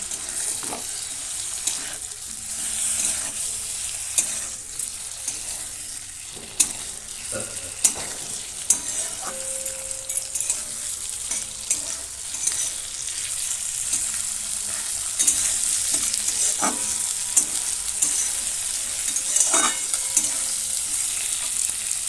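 Marinated chicken sizzles and crackles in a hot pan, with intermittent clinks and scrapes of stirring throughout.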